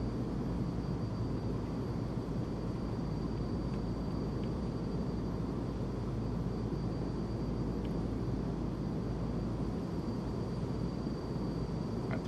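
Black Square King Air turboprop taxiing in Microsoft Flight Simulator 2020, a steady broadband engine drone with a constant low rumble running unbroken from start to finish, no voices.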